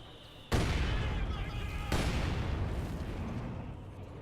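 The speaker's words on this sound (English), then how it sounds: "Stug is firing at my squad here, Penal Battalion squad." A StuG assault gun fires on an infantry squad in Company of Heroes 2: two heavy booming cannon shots about a second and a half apart, each trailing a long rumbling decay, with battlefield noise beneath.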